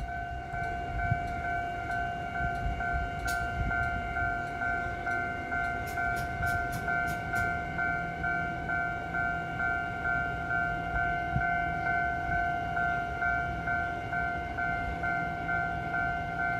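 A TEMU2000 Puyuma express train on the mountain line rumbles past with steady tones from its horn or warning signal sounding throughout, a few sharp clicks above a continuous low rolling noise at moderate distance.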